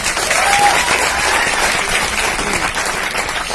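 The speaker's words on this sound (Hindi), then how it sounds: "सबसे पहले तो ताली बजाओ एक बार और।" A crowd at a motivational speech event in India claps together in a sustained, even burst of applause lasting a few seconds, close and full, with scattered voices faintly mixed in.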